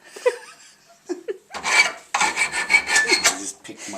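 Metal burrs on a trailer project are filed by hand, with a few light scrapes followed by a run of quick, loud rasping strokes close by.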